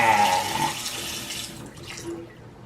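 Water gushing from a dragon-shaped bathroom faucet into a basin, a loud steady splash that thins and fades out as the flow is shut off, with no talk.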